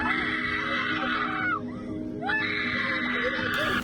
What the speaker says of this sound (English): you hear the kid screaming in agony